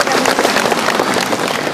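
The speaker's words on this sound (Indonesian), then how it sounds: "Kita berikan tepuk tangan yang meriah undangannya" Audience applause at an awards ceremony honouring a village midwife, a dense, steady clapping from a crowd that stays loud and even throughout, with a faint murmur of voices mixed in.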